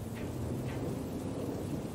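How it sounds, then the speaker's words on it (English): Heavy rain pours steadily in a storm along a country road, a dense continuous hiss with low rumbling beneath. "the rain intensified"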